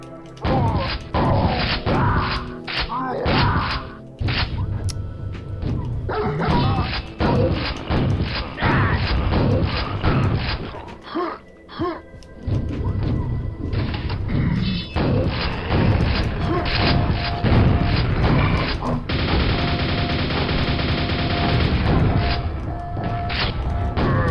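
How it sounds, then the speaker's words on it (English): Loud, dense game combat in Quake on the map SM222 Towers: repeated heavy booming super shotgun blasts amid crashes, thuds and mechanical clatter, continuing with few pauses throughout. "Right as I started complaining, right on cue, the super shotgun."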